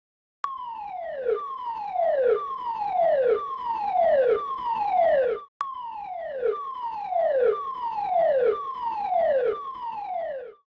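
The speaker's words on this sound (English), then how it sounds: "Abandon alarm." A wailing abandon-ship alarm sweeps downward in repeated falling tones, about five per cycle, loud and steady, with a brief break midway before it resumes.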